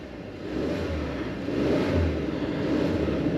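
A 2023 Ford Ranger Lariat FX4's 2.3-liter four-cylinder engine runs at a steady low idle after starting, a close, continuous rumble that swells slightly midway with no voices over it.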